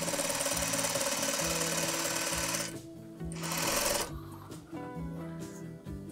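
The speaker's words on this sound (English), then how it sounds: "I am going to start sewing, leave a little bit of overhang here" A sewing machine stitches quilt fabric for an improv log cabin block, its motor whirring steadily with a rhythmic mechanical chatter, then briefly stopping and restarting in shorter runs. The sound is close and moderately quiet.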